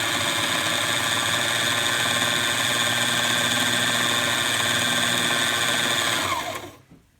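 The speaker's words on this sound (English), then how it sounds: "Step on the bobbin winder." The bobbin winder on a sewing machine spins with a steady, loud whirring hum for several seconds, then quickly winds down and stops.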